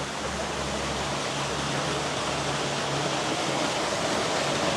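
Water rushing down a waterfall area on a day trip from Chiang Mai to Chiang Rai in Thailand, a loud, steady, hissing broadband roar with no breaks, close by.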